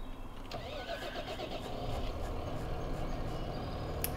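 A tractor engine in Farming Simulator 17 cranks and catches through manual ignition, then settles into a steady mid-pitched idle that stays loud and continuous to the end.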